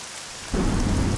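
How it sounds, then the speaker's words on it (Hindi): Heavy rain pours down in a storm, a soft hiss that suddenly swells into a loud low rumble of thunder and dense downpour halfway through. "क्या बारिश है।"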